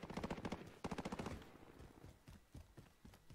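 Rapid bursts of automatic gunfire from the Roze bundle guns in Warzone, including dual-wield pistols, two dense volleys up front followed by scattered single shots trailing off, loud and close.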